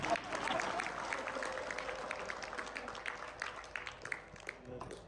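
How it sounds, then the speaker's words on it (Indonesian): A church congregation claps during a worship service, a dense wash of hands filling the room over music and a preacher's voice, steady and moderately loud throughout. "Tepuk tanganlah untuk Tuhan."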